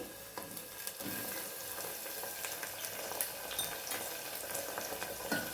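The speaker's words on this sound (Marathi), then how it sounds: "टमाटर पण आपलं मस्त परतून द्यायचे" Onion and tomatoes sauté in a pan for green peas rice, giving a steady, faint frying hiss with small crackles and occasional stirring scrapes.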